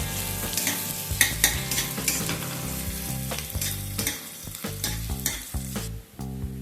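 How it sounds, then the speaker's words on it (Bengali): Two chopped medium onions fry in hot oil with a loud, busy sizzle. Repeated spoon scrapes and stirring strokes come up close throughout. "পেঁয়াজটাকে একটু লাইট ব্রাউন করে ভেজে নেব।"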